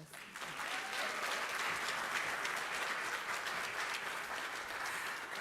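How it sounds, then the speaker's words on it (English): A crowd applauds warmly at the Schomburg Centennial Festival keynote, a full, even roar of clapping that swells in at the start and stays loud and sustained throughout. "Thank y'all for the warm applause."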